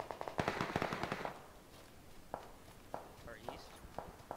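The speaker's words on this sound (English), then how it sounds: "Shots to the left." Gunfire in the battle royale game PUBG: a rapid burst of shots up front, then sparse single cracks further off, with voices talking over it.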